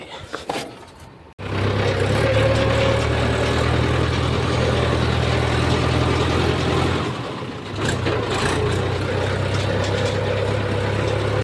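A Mahindra tractor engine starts up after a brief quiet, then a loud, close, steady diesel rumble holds. It dips briefly partway through before carrying on.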